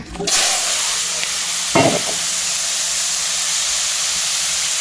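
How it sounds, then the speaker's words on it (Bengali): Brinjal frying in a pan, a loud hissing sizzle that starts abruptly and holds steady throughout, with one brief scrape partway through, close and without talking. "মুই বেগুনটাও ভাজি নিবার ধরছি"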